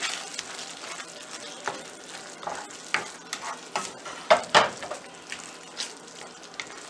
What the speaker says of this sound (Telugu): ఒక టేబుల్ స్పూన్ కొత్తిమీర వేసుకొని కలుపుకోవాలి.